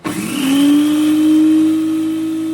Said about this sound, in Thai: เราจะปั่นพอดีเคี้ยวกรุบๆแบบนี้นะคะ นี่คือปั่นใบมะกรูดนะคะ